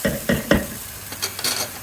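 Masala tempering for Kathiyawadi khichdi sizzles in a pan as three quick scraping stirs land close together, then a softer continuous sizzle follows.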